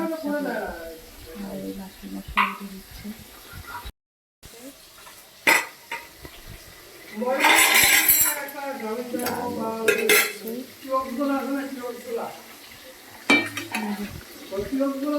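Chital fish frying in a pan in a home kitchen, soft sizzling mixed with clinks of utensils, stirring and pot knocks, someone talking over the cooking sounds throughout.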